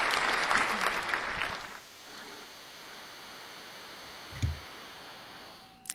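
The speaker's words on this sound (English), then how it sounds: "I'm just giving you an applause there" Short burst of clapping from a few people, loud at first then fading within about two seconds, followed by quiet room tone and a faint thump.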